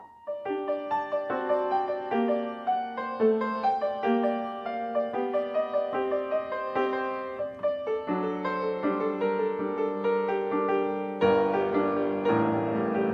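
A piano plays a flowing, repeating melodic sequence of quick notes from a Bach organ piece, climbing and shifting pitch in steady patterns, with no voices.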